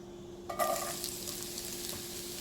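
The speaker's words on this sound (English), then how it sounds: "That was 1 medium onion. I'm going to saute it." A medium onion goes into heating oil in an Instant Pot on sauté, with a soft clatter as it drops in and then a steady, moderate sizzle over the appliance's constant hum.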